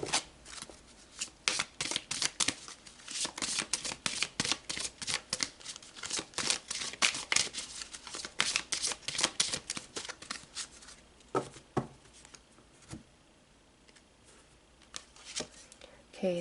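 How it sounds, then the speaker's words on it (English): Tarot cards shuffled and pulled for a reading, giving a dense run of crisp riffling and flicking bursts that ease into sparser card snaps and slides toward the end. "let's pull a few cards for love and romance, and then we will pull a final message."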